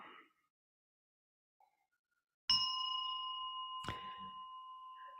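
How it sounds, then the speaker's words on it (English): A Buddhist bell rings out during an Amitabha chanting session: one loud, bright strike with a long sustained ringing tone, then a second strike about a second and a half later that layers onto the still-ringing tone. "The bell sound wide resounds"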